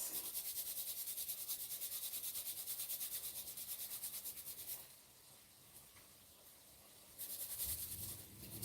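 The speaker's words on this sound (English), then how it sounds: "I'm just going to grate this little piece of carrot in there, just to add a little enhancement" A small piece of carrot is rubbed across a grater over a pot while cooking a mackerel rasta pasta, giving a steady, close rasping scrape that eases off briefly midway, then resumes loudly.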